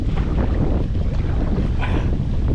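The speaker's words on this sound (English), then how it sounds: "Man, that headwind picked up a little bit, didn't it?" Headwind gusting across the open water during a river paddling trip, a steady broadband rush of wind buffeting the microphone that stays loud and constant throughout, with a slightly brighter gust near the end.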